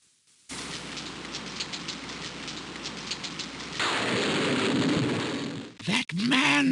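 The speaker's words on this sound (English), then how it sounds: "It starts to rain." Rain starts in the video game King's Quest 6. Pattering drops come in first, then a denser steady downpour takes over, ending in a few sharp, booming game sound effects.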